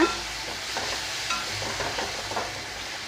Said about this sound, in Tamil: நம்ம வந்து கட் பண்ணி வச்சுருக்க தக்காளியும் சேர்த்துக்கலாம். அதையும் சேர்த்து நல்லா வதக்கிடுத்துங்க